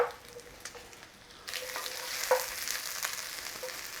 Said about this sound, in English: So the idea of just keeping it moving like that, it's not sitting to actually burn anything on the pan.